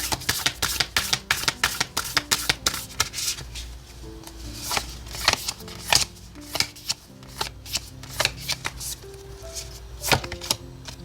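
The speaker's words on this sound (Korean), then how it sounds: "오라클 카드도 3장 놓고 같이 리딩을 해보도록 할게요" Oracle cards for a tarot reading are shuffled and laid out in quick, crisp flicks and slaps, a busy run of sharp close riffling sounds over quiet background music, with no one speaking.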